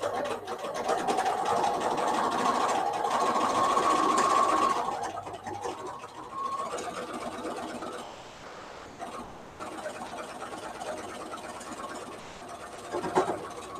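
A quilting sewing machine runs unevenly and acts up, a steady mechanical whir that shifts and stutters midway, then continues at a lower level with a brief clunk near the end.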